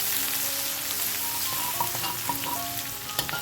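Ginger paste frying in hot tempering oil for a potol (pointed gourd) dish, a steady close sizzle with faint crackles and a few light clicks throughout, no voices.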